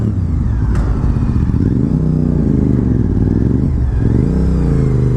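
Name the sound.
Honda RC51 VTR1000 SP2 motorcycle engine riding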